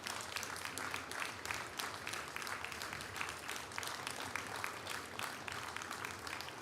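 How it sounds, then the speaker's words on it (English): An audience claps continuously, a thick, lively patter of many hands that holds at a steady level from start to finish. "a well-deserved applause."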